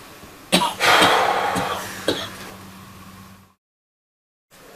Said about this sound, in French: Je t'ai entendu tousser.